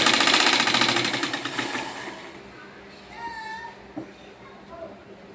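A sewing machine runs at speed stitching a fitting line on a kurti, a loud rapid rattle that fades out after about two seconds, followed by quieter handling and faint background voices.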